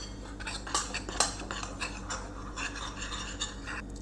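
A whisk clinks and scrapes against a bowl while nutmeg, ginger and cinnamon are mixed together, giving quick, irregular metallic taps and rubbing strokes at close range with no talk.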